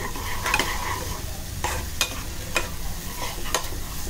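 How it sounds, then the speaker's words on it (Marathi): Ground masala paste sautéing in oil in a pan over medium-high heat for brinjal potato bhaji, a steady close sizzle broken by several sharp scraping stirs of a spatula. "तेल सुटेपर्यंत आपल्याला परतून घ्यायचं आहे"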